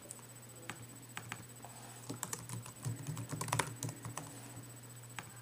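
Someone types on a computer keyboard in short, quiet bursts of key clicks, with a busier flurry of taps in the middle over a low room hum.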